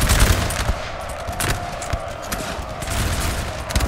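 Napoleonic artillery firing canister shot at the Battle of Borodino in Napoleon Total War, a dense roar of massed gunfire and booming volleys rolling on continuously throughout, loud and crowded with battle noise.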